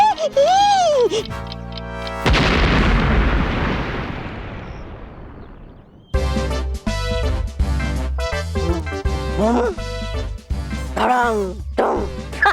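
A loud explosion blast rolls out in a Hindi superhero TV show, a deep roaring boom that decays over several seconds, surrounded by dramatic music stings and sound effects.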